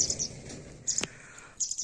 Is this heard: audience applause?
no